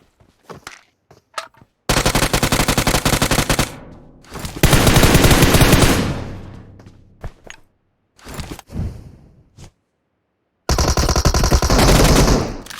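Automatic gunfire in the mobile battle royale game PUBG Mobile, long loud rattling bursts alternating with scattered single shots and quiet gaps, close and sharp.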